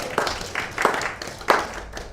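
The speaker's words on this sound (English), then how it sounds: "I think that deserves a round of applause." A small audience claps in a brief, sparse round, a few distinct loud hand claps standing out over softer scattered clapping and room noise.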